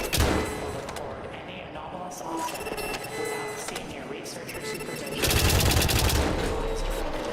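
Rapid gunfire bursts in the horror climbing game White Knuckle, dense and loud over a busy game soundscape, swelling into a heavier burst of shots near the end.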